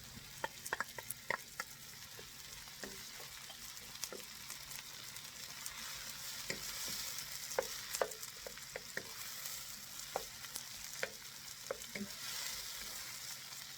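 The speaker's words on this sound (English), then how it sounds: "And then we can add our tomatoes." Tomatoes go into a frying pan of pork adobo with a steady close sizzle. Scattered clicks and scrapes of stirring break through it, and no one speaks.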